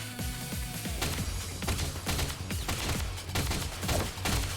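Gunfire in the AI: The Somnium Files – Nirvana Initiative game, a rapid fusillade of loud overlapping shots with heavy thumps in irregular bursts, with no talking.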